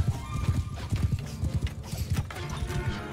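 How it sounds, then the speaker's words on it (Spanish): Horses gallop in the Mount and Blade 2 Bannerlord video game, a dense, loud run of rhythmic hoofbeats with a whinny blended in and no talk. "que vayan mis caballos también a pegarles un poco"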